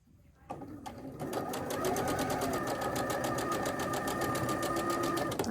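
A sewing machine stitches a curved quilt block, starting after a short pause and running in a steady, rapid mechanical rhythm at close range for most of the stretch.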